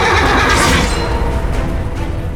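Horse neighing in the medieval battle game Chivalry 2, a loud, close whinny that rises and trails off amid a rough, noisy battlefield wash.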